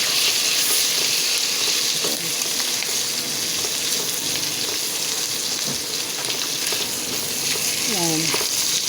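Mung beans (munggo) cooking in a pan sizzle and fry loudly and steadily throughout, a dense continuous hiss close by with faint stirring noises and a brief voice near the end.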